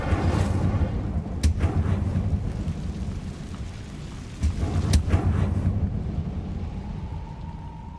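Incendio fire spell cast in Hogwarts Legacy: a loud, rumbling roar of flame with two sharp cracking bursts, one early and one midway, fading to a softer hiss at the end.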